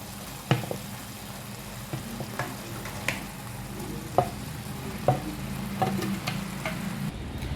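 Cooked rice gets mixed into a simmering paneer masala in a pan, soft sizzling beneath periodic spoon scrapes and knocks against the pan, close and moderate, with no speech.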